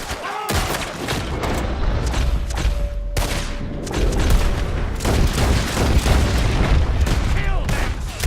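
Gunfire and booming shots in the video game Red Dead Redemption 2 burst out repeatedly in a chaotic firefight, loud and close, mixed with game dialogue and shouting.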